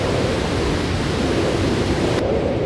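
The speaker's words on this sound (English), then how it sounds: "The waterfall crashes thunderously." A waterfall crashes in a steady, dense roar of pouring water, loud and continuous, with no voices over it.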